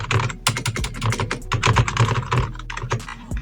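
Rapid, steady clacking of gaming keyboard keys pressed one after another, close up, with a slightly dull, thocky tone and no talking.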